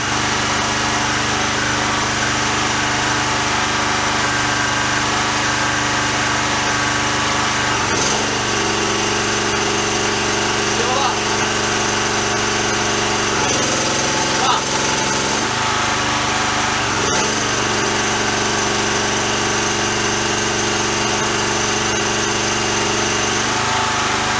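A petrol generator with a newly replaced starter cord runs under load, making a loud, steady engine drone. The pitch shifts briefly a few times as the load changes, and nobody speaks.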